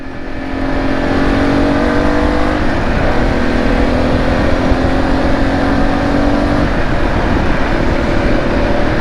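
Car engine pulling hard in sport mode, a loud, steady drone with rising harmonics that climb and settle across the run, continuous and close, with no talking.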